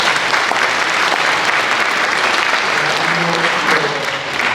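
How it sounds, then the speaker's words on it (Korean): Audience applause at a church commemoration ceremony in Korea, a dense continuous wash of many hands clapping, loud and steady throughout, with faint voices underneath. "박수 한번 보내주실까요?"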